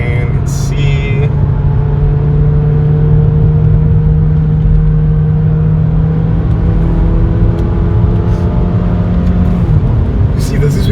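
A Mazda 3 sedan's engine drones loudly and steadily from inside the cabin as it pulls through corners, holding a sustained rising hum with constant road rumble throughout.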